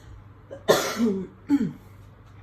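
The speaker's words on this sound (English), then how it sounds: "Wait, am I going to cough again?" Two close coughs, one long and raspy followed a moment later by a shorter one, with near silence around them.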